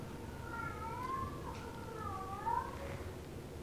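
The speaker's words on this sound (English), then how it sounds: "Can you hear the cat?" A cat meows in a few drawn-out, wavering calls, faint and somewhat distant over a low steady background hum.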